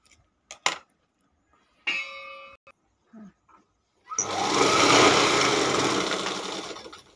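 An electric sewing machine runs steadily for about three seconds, stitching the folded end of an old saree for a godhadi quilt, close and fairly loud, after a few short clicks and brief mechanical starts.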